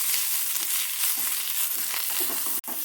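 Drumstick leaves wilting in a hot pan, a dense, even sizzle close up with faint stirring scrapes, ending in a sudden brief cut.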